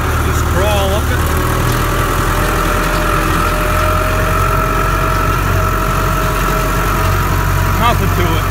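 A heavy tractor engine idles steadily, a loud continuous low rumble with faint whining tones and a brief squeak near the end.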